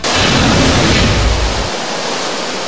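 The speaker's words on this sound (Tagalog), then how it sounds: "Malakas ang agos ng tubig sa spillway ng Bustos Dam nang bisitahin namin ito kanina." Loud, steady roar of water rushing through the Bustos Dam spillway, a broad continuous wash that drops away in its low rumble near the end.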